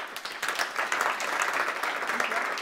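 Warm audience applause for two performers at a Dutch literary and music event, a dense, steady clapping from a seated crowd, moderately loud and continuous throughout.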